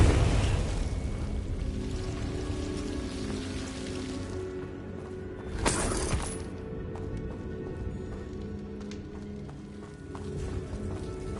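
A Confringo spell in the Hogwarts Legacy video game bursts once as a brief, fairly loud blast, set against a steady low ambient rumble and patter.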